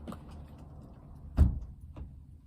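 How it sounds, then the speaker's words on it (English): A single door shut in a quiet room, one dull thud in the middle, followed by a softer knock. "Maybe we'll try closing the door."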